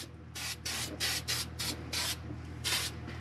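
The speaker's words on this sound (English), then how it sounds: "Just put a couple thin coats on, but we're doing the right thing and give her some more." Thin coats sprayed from a can onto rusty car inner quarter panels, about nine short hissing bursts in a quick uneven rhythm, close and loud, with no talking.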